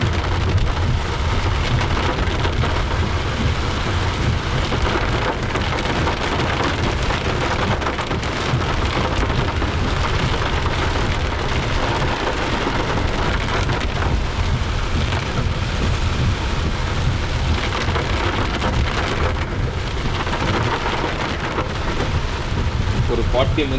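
Heavy rain falls during a car drive through the Javadhu hills, a dense, steady downpour drumming on the car, with distant thunder in the background and a voice speaking over it at times.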